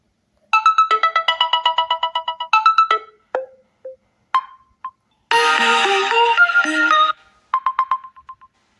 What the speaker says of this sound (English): You can also select one of these ringtones.